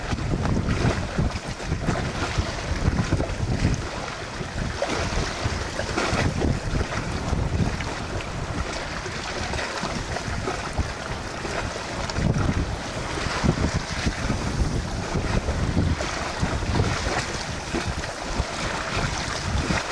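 A sailboat under trimmed sails moves through the night, steady wind rushing over the microphone and water washing along the hull in a continuous, dense roar with no voices.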